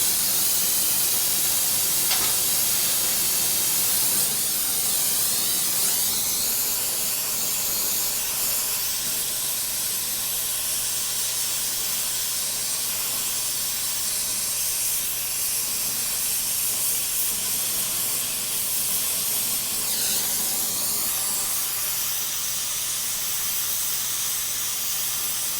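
An oxy-acetylene welding torch hisses steadily while heating 16 gauge steel, a continuous close rushing hiss that swells slightly at moments and runs on alone without speech.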